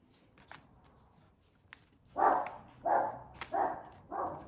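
Several dogs bark in a short run of four loud, evenly spaced woofs after a quieter stretch of faint rustling and handling noise indoors.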